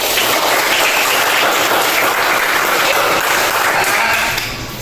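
A sixth-grade class applauding, a loud, dense, continuous wash of clapping that holds steady throughout and eases slightly at the end.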